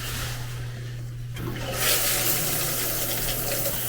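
A hotel shower at Universal's Sapphire Falls is switched on and sprays hard after a quiet start, its full hissing rush continuing steadily over a constant low hum.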